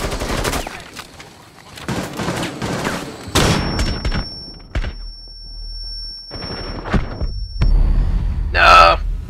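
Gunfire in the video game Rainbow Six Siege, fired through a manhole cover: a run of loud, rapid shots mixed with speech, a sustained tone after a burst, and a final sharp burst near the end.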